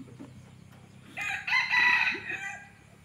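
A jungle fowl rooster gives one clear, loud crow that starts about a third of the way in and rises to a strong peak before fading out.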